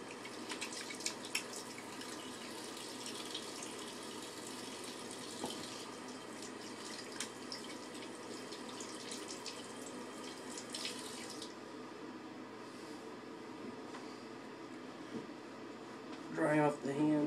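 Hands being washed under a running tap with pine tar soap, a steady splashing water stream that runs for a while, then stops before a few closer clatters at the end.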